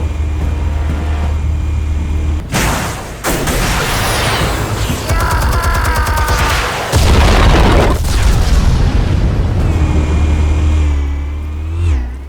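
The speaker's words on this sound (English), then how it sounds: "Explosives armed. Fire when ready." Explosive detonations in the Batman Telltale game: a loud broadband boom hits around 2.5 seconds, followed by sustained blast rumble and debris, then a second heavy roar near 7 seconds, with engine-like revving mixed through the game audio.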